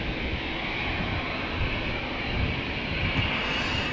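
Steady, broad jet engine roar of a TUI passenger jet departing Amsterdam Schiphol Airport, loud and continuous throughout, with no talking.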